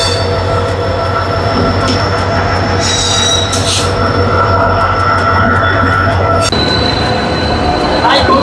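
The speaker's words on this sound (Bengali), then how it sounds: "এই ট্রেনটা কোথায় যাচ্ছে?" A local train on the Howrah to Digha line rolls through a station, wheels squealing loudly against the rails over a constant low rumble, with brief screeches and rattles; no talk is audible.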